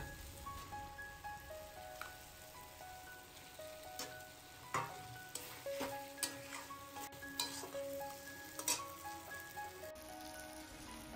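Fried prawns go into sizzling masala in a pan, making a faint, crackling sizzle with scattered spattering pops and stirring scrapes.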